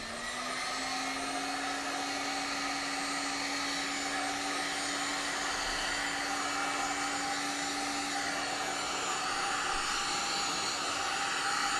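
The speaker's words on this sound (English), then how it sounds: "So we're going to do some heat forming." Heat gun blowing steadily to heat-form thin foam cheek pieces for a costume build, a loud continuous whooshing hiss with a faint tonal whine, unbroken and close for the full length, no talking.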